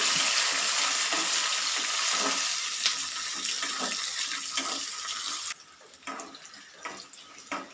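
Raisins added to cashews and coconut frying in ghee for kadala payasam, a loud close sizzle that drops suddenly, then gentle crackling with a few stirring knocks.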